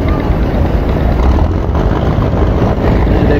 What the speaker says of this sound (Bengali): এই যে দেখেন বিশাল বড় লঞ্চ, বিশাল বড় লঞ্চ। এটা বরিশাল থেকে আসছে